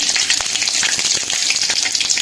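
Dried red chillies and mustard seeds with cumin crackle and sizzle in hot oil, a dense, loud, steady frying hiss with scattered pops and no talking.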